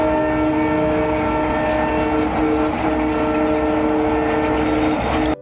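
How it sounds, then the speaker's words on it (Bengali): A train from Haldibari bound for NJP crosses a rail bridge near the Karatoya river, a loud, close, steady rumble with sustained horn tones running throughout. "এই যে ট্রেন যাচ্ছে, এই ট্রেনটা কিন্তু যাচ্ছে আমাদের এনজিপিতে"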